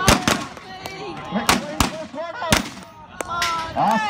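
Shotgun blasts at a national gunfighter shooting competition ring out as several loud, sharp reports in quick succession, with excited voices talking and calling out between and over the shots.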